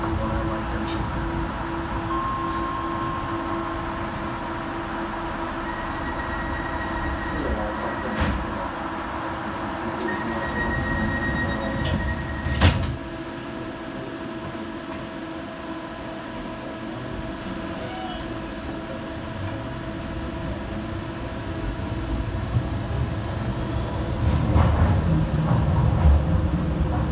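DLR light rail train between Stratford and Canary Wharf, a steady interior rumble of the carriage running over track, with occasional faint squeals and clunks and a slight rise in noise toward the end.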